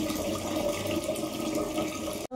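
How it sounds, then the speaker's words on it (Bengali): Water pours steadily into a pot of rice in a home kitchen, a continuous close splashing fill that ends abruptly. "আমি এবার ভাতের মধ্যে জলটা দিয়ে নিচ্ছি।"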